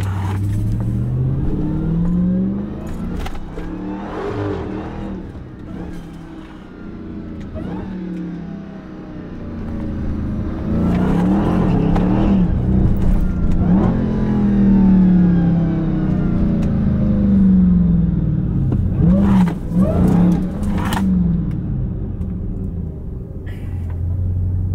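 A Dodge Hellcat cruising downtown Philadelphia growls loudly from inside the car, its engine repeatedly revving up and easing off with a rising supercharger whine over a deep rumble.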